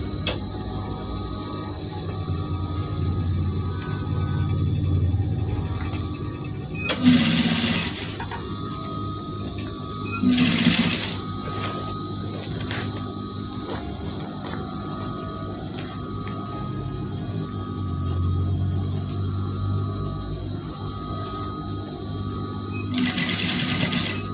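A sewing machine stitches a Chinese collar onto a panel dress, running in a steady mechanical hum with short louder bursts of fast stitching every few seconds, close and clear with no talk.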